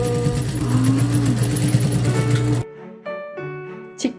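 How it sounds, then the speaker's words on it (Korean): A sewing machine runs in a fast, steady whir for a few seconds, then stops abruptly, leaving quieter clicks and faint room sounds. "직접 재봉틀로 옷을 만들고 계신 할머니"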